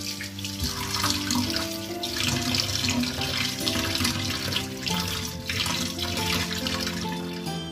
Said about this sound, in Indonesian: Kita cuci sampai lendir-lendirnya itu bersih